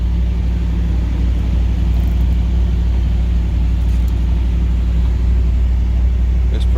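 A car idling at an auto auction, a loud steady low engine rumble close by without clear revving, with faint talk beneath.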